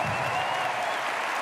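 A crowd at the Roland-Garros 2025 tennis final applauds in a dense, steady wash of clapping that fills the whole moment at a constant level.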